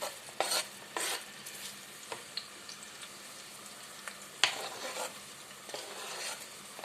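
Quartered onion frying in a hot pan while being stirred, with a steady soft sizzle and a few louder scraping stirs and light clinks of utensil against the pan, no talking.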